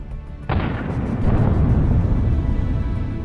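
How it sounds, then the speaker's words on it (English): A tank strikes a dense minefield, setting off a sudden loud blast followed by sustained rumbling detonations heard from a distance, with no voices. "There were as many as 5 explosions."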